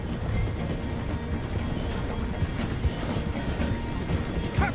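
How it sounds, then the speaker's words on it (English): A train in Red Dead Redemption 2 slowing down as it passes through a station, giving a steady dense rumble with faint clanking and rolling texture throughout. "The train is slowing down to go through the station."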